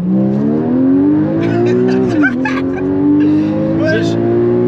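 A Porsche Cayman in sport plus mode roars as it accelerates hard, its engine note rising steadily, dipping briefly at a gear change, then climbing again, loud from inside the car with occasional voices.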